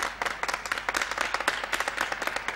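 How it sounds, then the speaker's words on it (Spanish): Studio audience on a 1970s Spanish television quiz show applauds, a steady run of rapid, moderately loud handclaps throughout. "muchas gracias por los aplausos"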